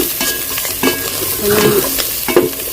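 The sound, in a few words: food frying in a pan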